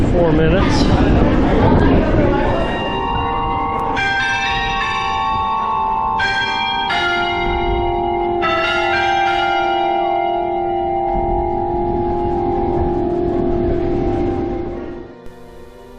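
A church bell in Iceland rings out several clear, resonant strikes that hang and overlap, with crowd chatter and street noise underneath before fading.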